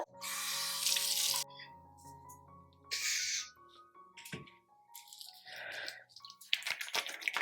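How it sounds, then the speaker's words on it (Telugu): Running tap water pours and splashes in bursts during a face wash at a sink, with gaps between the streams and small splashes and drips near the end, fairly quiet and close. "సో ఫస్ట్ ఫేస్ వాష్ నేను కూడా చేసేసుకుంటా"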